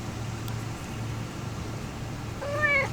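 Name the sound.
cat meowing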